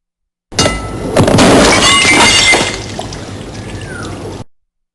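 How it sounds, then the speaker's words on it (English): Caesium metal dropped into water inside a glass jar reacts violently, giving a loud sudden burst of shattering glass and splashing that rings on for a few seconds before tapering away, with no talk. "it blows up that entire glass jar pretty much"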